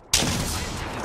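Video game gunfire erupts suddenly into a loud, dense rattle of rapid shots that continues without a break to the end.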